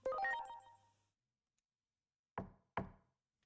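Two sharp knocks on a door in Digimon Story sound close and clear, following a brief ringing electronic tone that fades into silence.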